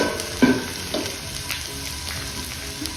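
Beans and dry fish curry frying in a pan, with a steady close sizzle and a few brief stirring scrapes, with no talk over it.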